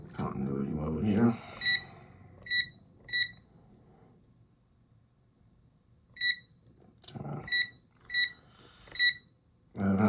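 A digital multimeter in continuity mode gives short, sharp high-pitched beeps, one alone, then pairs, then a faster run of single beeps spaced across the clip, with brief murmured talk in between.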